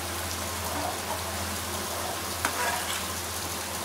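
Ginger curry (inchi curry) simmers in oil with a continuous, even sizzle and fine crackling bubbles, steady and close throughout with no talking.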